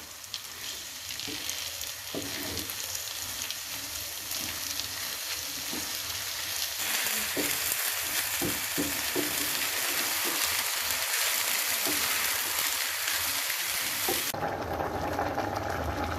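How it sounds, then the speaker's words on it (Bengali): Rice and lentils frying in a pot for chicken khichuri while being stirred nonstop, giving a loud, steady sizzle that runs for about sixteen seconds with soft stirring scrapes and no talking. "যতক্ষণ না ভাজা হয় ততক্ষণ আমি নাড়তে থাকবো"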